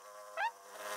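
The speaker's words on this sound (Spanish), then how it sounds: "¡Abeja!" A cartoon bee gives a brief, close buzz that rises and wavers in pitch, standing out clearly over a steady background hum.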